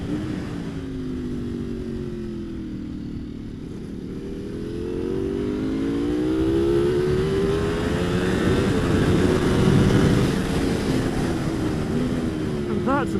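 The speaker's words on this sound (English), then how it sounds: "that, ladies and gentlemen, was a 1290 KTM" A KTM 1290 motorcycle accelerates hard on track, its engine note climbing and dropping through gear changes. The roar is close and loud, swelling toward the end amid wind rush.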